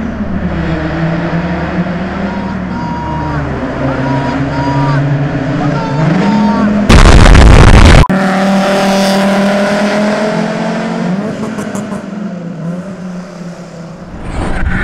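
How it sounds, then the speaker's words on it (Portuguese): Golf GTI and Civic Si accelerating hard, engines revving up through rising gear pulls, loud and close, with a sharp burst of noise midway and another run building afterward. "Agora, vamos ver os carros acelerando que é mais da hora"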